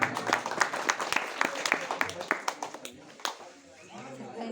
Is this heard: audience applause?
yes